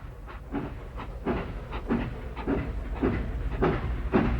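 A steam train chuffs rhythmically nearby, regular bursts of hissing exhaust about twice a second over a low mechanical rumble.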